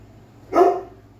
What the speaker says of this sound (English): Tubby, I think he's probably barking at blades of grass moving